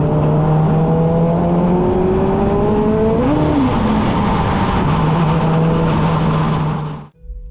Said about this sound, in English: That violent free rev was second gear completely letting go.